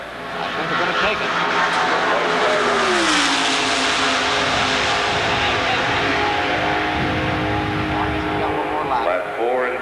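An Indy race car laps an oval track through turn four onto the main straightaway, its engine drone rising and falling in pitch as it passes, steady and fairly loud beneath a commentator's ongoing talk.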